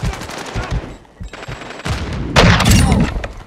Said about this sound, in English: Their bullets just flew past me.